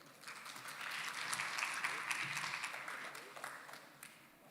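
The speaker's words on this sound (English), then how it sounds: "I warmly invite all participants to give a big applause to" Workshop participants applaud to welcome a speaker, steady moderately distant clapping that swells and then tapers off over several seconds.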